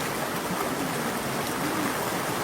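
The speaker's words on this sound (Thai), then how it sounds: "วันนี้เนี่ยพาชมบรรยากาศน้ำพุที่ใสๆนะคะ" Clear water runs from a fountain in a steady, close hiss of splashing and trickling. It stays even and continuous throughout, with no voices.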